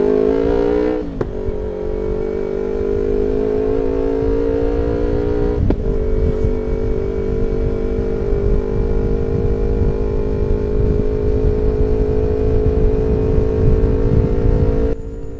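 A motorcycle fitted with a GPR Carbon DX exhaust idles with a steady, deep drone, then gets short throttle blips that rise and fall before settling back to a strong, close rumble.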